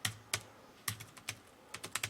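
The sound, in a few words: typing on a computer keyboard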